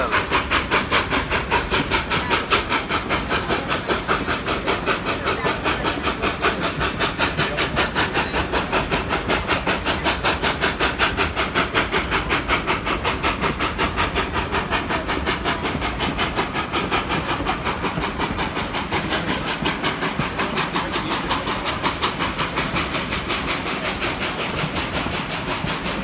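A narrow-gauge train on the Cumbres and Toltec Scenic Railroad rolls along steadily, with a loud continuous rumble, hiss and rhythmic clatter of wheels on the track throughout.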